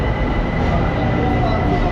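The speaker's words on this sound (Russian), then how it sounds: "Прокатимся в тайском метро." Steady loud rumble and roar of a Bangkok metro train in motion, heard from inside the carriage as one continuous drone with no distinct clicks.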